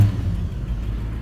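A 1983 Chevy Silverado square-body pickup with a 305 V8 runs with a low, steady rumble, fairly quiet and without much change in pitch.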